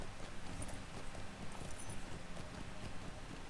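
Steady rhythmic clip-clop of horse hooves at a brisk pace in the video game Lord of the Rings Online, continuous and fairly close, over a dense background rumble.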